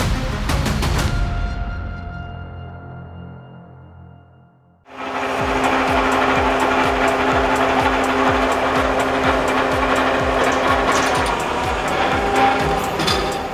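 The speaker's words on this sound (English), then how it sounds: "The Brutus 300 wood splitter is an absolute monster. It chews through 3-meter logs" Brutus 300 firewood processor, a heavy wood splitter that chews through 3-meter logs up to 60 cm thick, running loud and continuous with rhythmic mechanical pulses after a brief pause and restart.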